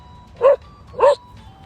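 A dog barks twice, two sharp, close barks about half a second apart, with quiet background between.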